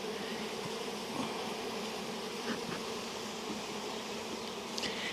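Honey bees buzz steadily and densely around an open hive while its boxes and bottom board are handled and readied for honeycomb super storage, a continuous close insect drone with no talk.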